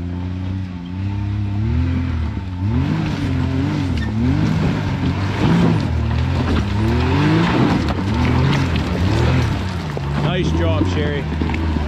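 An off-road vehicle at Crossbar Offroad Park revs hard at full throttle while climbing a slick rock obstacle, its loud engine note rising and falling continuously throughout, with people talking over it.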